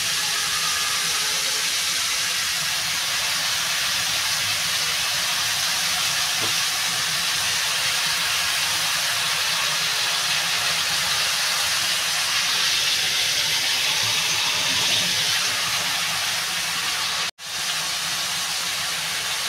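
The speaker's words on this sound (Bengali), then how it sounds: "লাউটা একটু কষাবো, তারপরে সামান্য জল দেবো।" Bottle gourd sizzles in a hot pan with a steady, even hiss throughout, cut by one brief break near the end.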